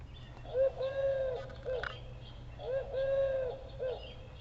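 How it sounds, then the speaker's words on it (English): A wood pigeon call, played from a children's Usborne sound book, gives two clear phrases of soft, rhythmic cooing notes with a brief pause between them, close and moderately quiet over a low electronic hum. "Listen, can you hear a wood pigeon sing?"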